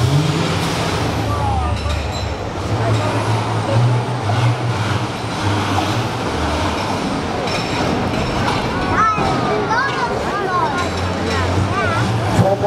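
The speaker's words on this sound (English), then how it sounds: "Diesel with a real big pump, as you can tell by the black smoke." A diesel 4WD truck fitted with a big injection pump at an off-road show, its engine rumbling loudly and continuously amid crowd noise, with people talking nearby.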